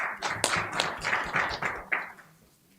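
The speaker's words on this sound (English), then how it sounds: "So he deserves a round of applause" Members of parliament clap in a modest round of applause during a national council session, a scattered cluster of claps at moderate volume that thins out and fades within a few seconds.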